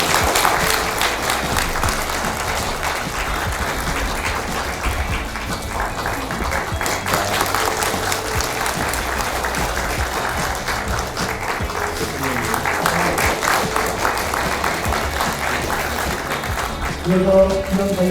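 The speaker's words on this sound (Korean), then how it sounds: "큰 박수 부탁드립니다." Long sustained applause from a large audience at a university president's inauguration ceremony, with dense continuous clapping throughout and a brief swell near the end.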